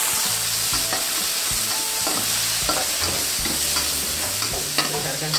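Shallots and garlic sautéing in a hot wok, a loud, dense sizzle with rhythmic scraping strokes of a spatula and a few sharp metal taps, up close and continuous with no speech.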